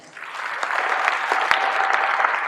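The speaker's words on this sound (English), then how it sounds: "Let's give our inductees and teams a nice round of applause" A hall of fame audience at a college athletics ceremony applauds its inductees and teams, steady dense clapping swelling in over the first moments and holding loud and even throughout.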